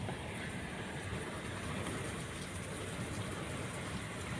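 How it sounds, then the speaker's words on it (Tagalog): Steady, dense rain pours down in a continuous wash of noise with no pauses, heard alone without any voices. "Ganyan kalakas ang ulan"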